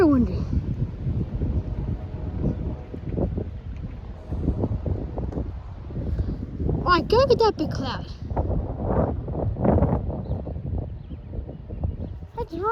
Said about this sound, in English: Wow, it's very windy.